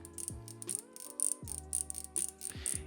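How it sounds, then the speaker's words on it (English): Star drag of an iFishband Clamber 2 BFS baitcasting reel clicks in a steady ratcheting series, close and moderately loud, sharp metallic ticks repeating about every quarter second with no talking. "And then here's the sound of the star drag clicking."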